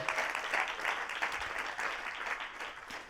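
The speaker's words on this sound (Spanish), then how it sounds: "Denle un aplauso al Señor." A church congregation applauding at a sermon, dense, sustained clapping from many hands at a moderate distance, fairly soft and fading slightly toward the end, with no talk over it.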